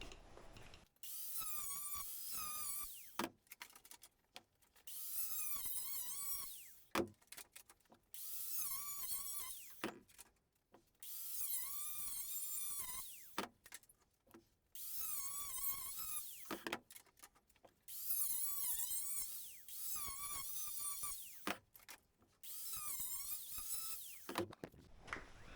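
A power tool cuts a fiberglass hovercraft fan shroud in repeated high whining bursts of several seconds each, separated by brief pauses and clattering, loud and close.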